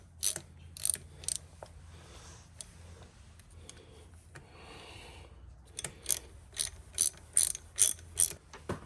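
A ratchet wrench clicks in quick bursts while removing clutch spring bolts on a Honda Shadow VT1100, close and crisp, with a quieter pause of faint handling noise midway before several more rapid ratcheting strokes.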